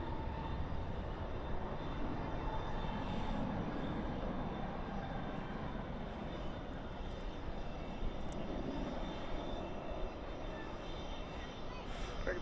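An airliner takes off from runway 18 Left at Dallas/Fort Worth airport at night, with a steady, loud engine roar that holds broad and unbroken throughout, close by and constant.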